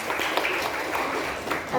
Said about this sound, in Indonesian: Baik, beri tepuk tangan untuk kelompok Militias.